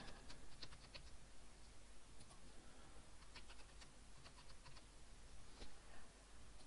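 Fingers tap on a computer keyboard while entering a password, a quiet run of close, irregular key clicks with small pauses over a low steady background hum, no voices.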